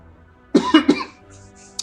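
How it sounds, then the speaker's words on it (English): A single close cough bursts out in two or three quick harsh pulses, followed by a faint breathy tail and a small click, in an otherwise quiet room at a computer. "I'll just try and cough quietly."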